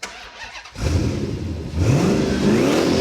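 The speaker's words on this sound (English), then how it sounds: "I want to hear this turbo Hemi honk a little bit" A turbocharged Hemi engine in a Dodge Challenger SRT cranks, catches and roars, then revs up with a rising growl, loud and close.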